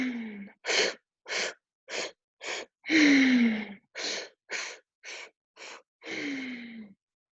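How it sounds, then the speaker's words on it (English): Rapid, powerful forced breaths during a Kundalini yoga breathing exercise, a dozen sharp, evenly spaced bursts through the nose with a couple of longer voiced exhales mixed in, close and clear with nothing else behind them. "everything you've got into this powerful, powerful breath."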